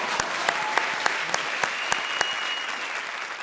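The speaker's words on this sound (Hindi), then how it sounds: "ठोको ताली।" Studio audience at a televised comedy show applauds loudly and steadily for the full stretch, with sharp regular accents cutting through the dense wash of claps.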